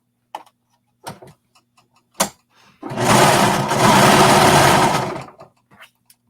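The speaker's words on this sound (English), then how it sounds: "Making sure when you sew around the curve that you're not pulling, that you're just kind of manipulating your fabric over." A sewing machine stitches fabric around a curve in one continuous loud run of about two and a half seconds, framed by scattered soft clicks and handling taps before and after.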